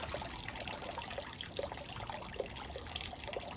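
Water trickles steadily from a dragon-shaped spout into a stone purification basin at a Japanese shrine, a soft continuous splashing and dribbling heard close by with no voices.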